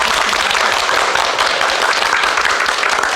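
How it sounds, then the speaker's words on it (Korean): A lecture audience gives a big round of applause to the speaker after a talk on manners and image-making, a steady, loud wash of many hands clapping at once, unbroken from start to finish. "이미선 원장님께 큰 박수 부탁드립니다"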